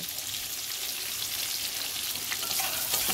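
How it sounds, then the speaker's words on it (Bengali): Three medium onions fry in hot oil as they are stirred, giving a loud, dense, even sizzle up close for a few seconds with no voices. "সেই পেঁয়াজ 3টেকেও আমি দিয়ে ভালো করে নেড়ে চেড়ে ভেজে নেব"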